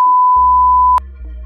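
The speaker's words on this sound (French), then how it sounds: "Ah, réveil. Nous sommes sur un réveil." An alarm clock going off: a single loud, steady electronic beep held for about a second, with a low hum underneath that continues after the tone cuts off.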